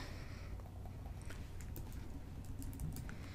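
Quick, light keystrokes on a computer keyboard patter in short bursts at close range over a low steady background hum.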